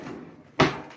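A kitchen drawer is pulled open while someone prepares a sweet treat, giving one short, close sliding clatter midway after quiet room noise.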